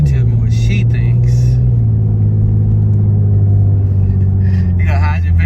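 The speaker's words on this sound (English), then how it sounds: "so we got Bae driving the G37." An Infiniti G37 cruises along, a loud, steady low engine drone and road rumble heard from inside the cabin, with people talking intermittently over it.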